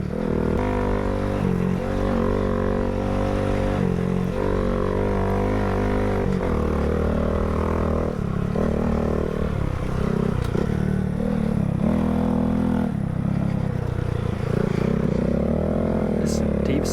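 Dirt bike engine revving and laboring through deep sand, a steady loud motor drone with shifting pitch and rattling clatter throughout, with voices talking over it.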